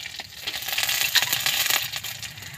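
Black cumin seeds drop into hot oil already holding dried red chillies, giving a brief scattered rattle followed by a bright, steady sizzle up close, with no voice.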